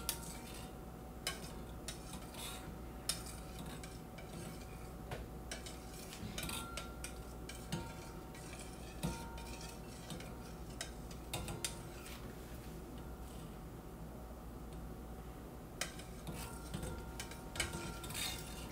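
Melted ingredients are whisked in a container, giving a steady run of light metallic clinks and ticks, close and fairly quiet, continuing alone without talk.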